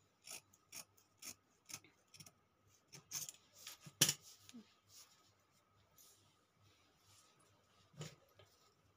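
Scissors snip through blouse fabric in a series of quiet, crisp cuts at an irregular pace, close by with soft rustling between snips and no speech.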